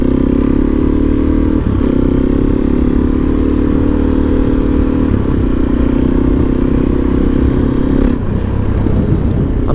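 Suzuki DRZ supermoto motorcycle, just repaired with JB Weld, idling steadily nearby with a constant low engine drone and a slight dip in revs near the end.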